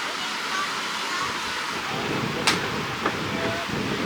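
Strong wind gusting across the seaside port of La Goulette, Tunisia, making a steady broadband roar against the microphone, with a couple of brief faint clicks near the end.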